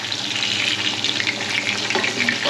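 Beef steak, bistek, frying in hot oil in a pan, a close, steady crackling sizzle with popping spatter that runs the whole time and has no voices over it.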